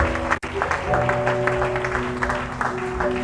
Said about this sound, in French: Est-ce qu'on peut applaudir la victoire de la gloire?